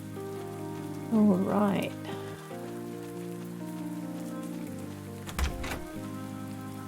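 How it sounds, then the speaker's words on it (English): Steady rain patters down outside in the farming video game Pumpkin Days, a constant hiss under soft tonal game music, with a brief spoken word near the start and a short bump of louder noise later. "Sometimes you look out the window here and it's a bit like that when the rain's coming down."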